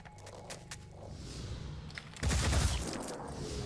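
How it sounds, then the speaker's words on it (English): Return gunfire in the Phoenix Point strategy game: faint scattered shots give way to a louder burst of rapid fire midway, with mechanical clatter around it. "We got a return fire going on that guy."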